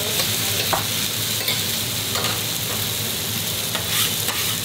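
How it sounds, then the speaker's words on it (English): A utensil scrapes burnt, caramelised bits across a hot pan back into a sizzling lamb chop, with a continuous loud frying hiss and repeated scraping strokes. "What we're doing now is we're scraping all the flavours that are burning and put it back into the meat"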